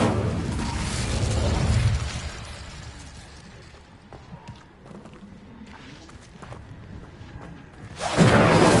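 Incendio fire spell cast in a Hogwarts video game, a loud rushing burst of flame at the start that fades into scattered crackles and light impacts, then another sudden fiery whoosh at the end.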